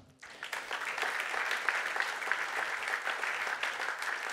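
Steady applause from a gala dinner audience, a dense wash of clapping that starts abruptly and holds at an even level throughout.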